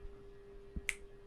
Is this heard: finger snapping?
yes